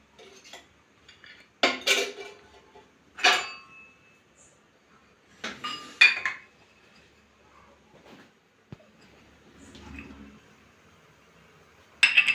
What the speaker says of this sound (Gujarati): બધી વાટકી આપણે તૈયાર કરી દઈએ.